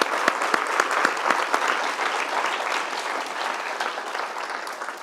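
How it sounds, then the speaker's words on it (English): Lecture-hall audience giving Professor Schreiber a big round of applause at the Sir Geoffrey Wilkinson Lecture, opening with a few sharp distinct claps that swell into dense, sustained clapping and slowly taper. "I'd like a massive round of applause for Professor Schreiber."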